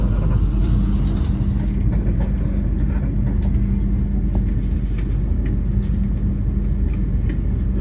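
Steady low rumble of the Mutiara Selatan passenger train rolling along rails, continuous and fairly loud, with faint clicks over the track and no voices.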